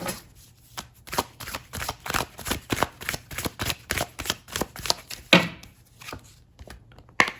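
Tarot cards shuffled and drawn close up, a rapid string of crisp riffling slaps and flicks in an uneven rhythm, with a few brief louder snaps near the end and no talking.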